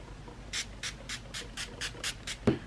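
About eight quick hissing sprays of Wet n Wild makeup setting spray in a steady, rapid rhythm, close by, ending with a soft thud.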